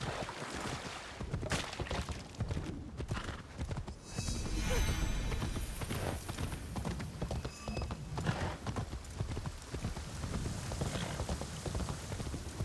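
A horse's hooves clip-clop at a run in Assassin's Creed Shadows, quick rhythmic thuds over a rain-like background with an occasional whinny, steady and close throughout.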